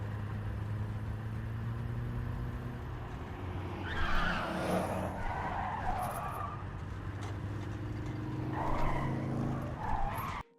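Cars in the video game Blind Drive approach and skid, with a steady engine drone and two bursts of tire squeal sweeping past, the first a bit louder, the second near the end.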